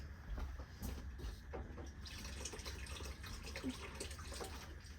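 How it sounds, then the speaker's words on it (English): Running tap water splashes steadily over hands being washed in a home kitchen, a continuous soft, close wash of water with faint dripping and no talk. "Gonna wash my hands."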